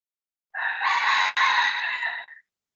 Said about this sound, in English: There's so many roosters here. It's crazy how loud they are.